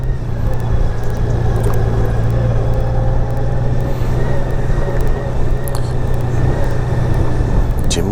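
Steady road traffic on a busy street with many parked cars, a continuous loud low rumble of passing vehicles with no break, heard from a bike ride.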